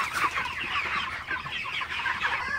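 Broiler chickens cluck continuously inside a poultry house in cold winter weather, a busy chorus of overlapping close clucks with no talking.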